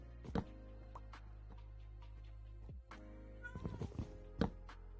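Pet cat meowing in a quiet room, a few short mews scattered over several seconds with small thumps between them and a low steady hum underneath.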